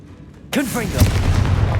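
A Confringo fire spell bursts with a sudden loud blast in Hogwarts Legacy on PS5, its boom followed by a sustained rumbling roar and crackle as the explosion rings out.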